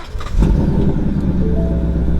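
A 2020 Ford Mustang GT Performance Pack V8 starts up: a brief cranking whir, then the engine catches with a loud close burst and settles into a deep, rumbling idle.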